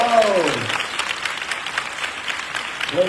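A church congregation claps together for Jesus in a full, sustained round of applause. A voice rises briefly at the start and again at the end over the clapping.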